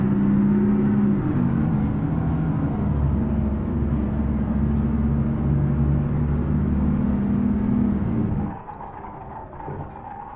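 A heavy truck engine in Euro Truck Simulator 2, run in a high-power engine mode, drones steadily and loud for about eight seconds, then cuts off sharply as the truck brakes to a stop, leaving quiet residual rumble.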